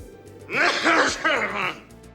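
A man in the Army of Darkness film coughs and grunts in a short, close burst of throaty vocal sounds lasting about a second and a half.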